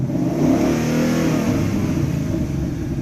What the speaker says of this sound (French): si vous voulez encore écouter le son du moteur.